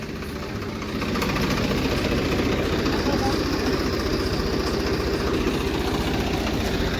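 A tractor engine chugs loudly and steadily close by as the stuck tractor, its brake liners jammed and a tyre not turning, is pulled free; a deep, rapid pulsing throb holds throughout and grows slightly stronger after the first second.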